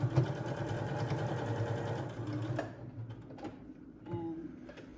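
A sewing machine stitches a homemade cloth face mask in a fast, steady run for nearly three seconds, then stops and gives two brief bursts of stitching. No voices are heard.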